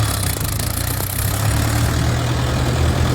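A tractor engine idles at a farmers' protest rally heading toward Delhi, a steady low rumble that stays loud and continuous throughout with no talk over it.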